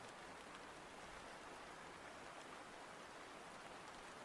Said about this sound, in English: The rain is very loud for me.